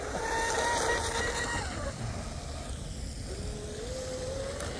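An electric Tenshock F1 tunnel hull RC boat runs at full throttle on water, a high whining motor pitch sweeping down and back up as it passes at a distance, steady and fairly faint with no talking.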